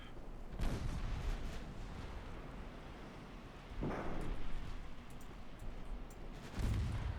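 Naval guns firing in the warship game Ultimate Admiral Dreadnoughts, including small 3-inch guns: three heavy booming reports spaced a few seconds apart over a constant rumbling roar, with no talking.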